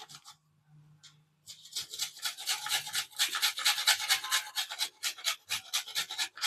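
Dried copra coconut being grated by hand, a dense run of rapid raspy scraping strokes that starts after a quiet opening and continues steadily, close and fairly loud.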